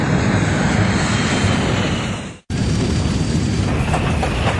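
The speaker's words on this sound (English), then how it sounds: "Bryce McCormick's DC-10 is badly damaged" A badly damaged DC-10 airliner in flight on a short Detroit-to-Buffalo route, its engines a loud, steady broadband roar with one brief cut-out midway before the roar resumes.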